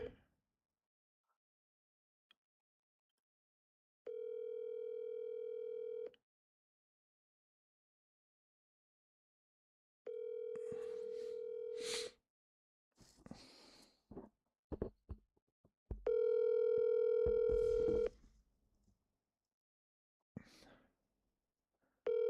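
A phone call being placed, with long steady ringback tones repeating in three separated blocks, each lasting about two seconds, alternating with quiet gaps and brief talk nearby.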